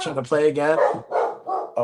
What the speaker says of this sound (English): apologies for the loud dog